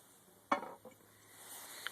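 A ceramic pot lid clinks sharply against a hard surface as it is set aside, followed by a softer second knock and a faint later tap in an otherwise quiet room.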